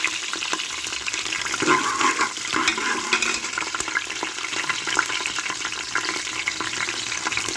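Green chillies spluttering and crackling in hot oil while frying for biryani, a dense, loud continuous sizzle with scattered sharp pops close by, no voices.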